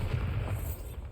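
A Bombarda blasting spell goes off in Hogwarts Legacy, a dense, rumbling low boom that rolls on steadily for about a second without a sharp crack.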